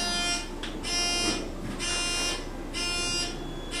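A harsh Otis elevator buzzer alarm pulses on and off in repeated bursts, loud and steady, with a constant background hum underneath.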